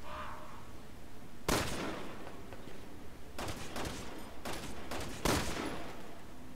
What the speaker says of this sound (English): I shot it in the head, I think.